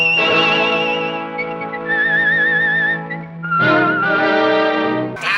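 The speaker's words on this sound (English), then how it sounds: "That's a nice whistle." Whistled theme music from The Saint is carried alone by a loud, clear melodic whistle. A short wavering phrase is followed by a higher trilling passage, a brief dip, then a renewed bright, sustained line.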